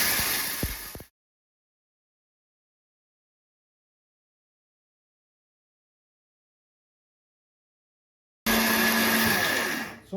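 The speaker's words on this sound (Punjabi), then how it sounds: "ਇਹਨੂੰ ਮਿਕਸੀ ਦੇ ਵਿੱਚ ਪਾ ਕੇ ਇਹਨੂੰ ਵੀ ਆਪਾਂ ਗ੍ਰੈਂਡ ਕਰ ਲੈਣਾ" A kitchen mixer grinder grinds green coffee beans in loud bursts, running for about a second, cutting to silence, then starting up again near the end with a steady whirring roar.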